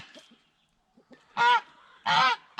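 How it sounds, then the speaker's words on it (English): A goose on a backyard chicken farm honks twice, two loud, close, nasal calls about half a second apart after a few faint softer sounds. "Goose who follows me around the yard."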